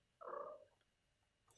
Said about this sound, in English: Sorry, it's the cat.